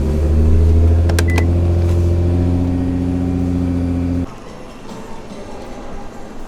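A Nissan GT-R engine cold-starts in 9-degree snowy weather, settling into a loud, steady high idle that cuts off abruptly after about four seconds, leaving quiet ambience.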